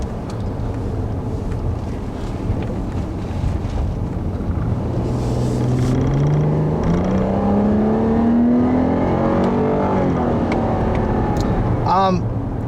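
A 2012 Chrysler 200 S with its 3.6 liter V6 accelerates hard, the engine note climbing steadily over continuous road and wind roar while someone talks over it throughout.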